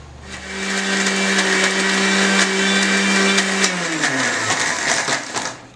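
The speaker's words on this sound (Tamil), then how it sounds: "இது கூடவே பெரிய நெல்லிக்காயும் சின்ன சின்னதாக கட் பண்ணி போட்டு மறுபடியும் அரைச்சிக்கணும்" A kitchen blender grinding aloe vera with chopped gooseberry into paste, a loud close motor whine that holds steady, then winds down in pitch as the machine slows and stops.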